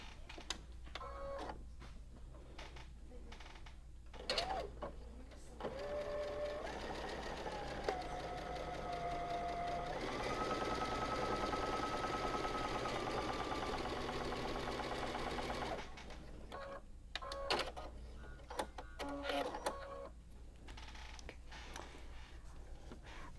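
A sewing machine stitches a quarter-inch seam on a pleated tree quilt block. Its steady, fairly quiet whirring hum runs unbroken through the middle, with softer handling clicks and rustles before and after.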